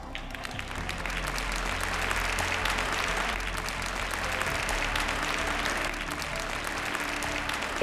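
Sustained, dense applause from a large audience at an evening Master Shipbuilders recognition ceremony for Newport News Shipbuilding, steady and even throughout.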